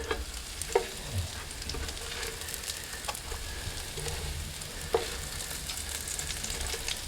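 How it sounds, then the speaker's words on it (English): Eggplant slices crisp in hot oil for eggplant parm in an RV kitchen, a continuous close sizzle broken by occasional clinks and scrapes of stirring, with no one talking. "eggplant parm really doesn't take long to actually kind of fry it in the oil"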